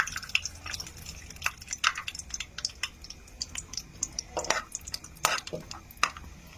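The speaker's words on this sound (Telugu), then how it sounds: "ఫస్ట్ జీడిపప్పులు ఫ్రై చేసేస్తున్నాను." Cashews fry in melted ghee in a pan while making semolina laddu, heard as a quiet, crackly sizzle dotted with frequent light taps and scrapes from stirring.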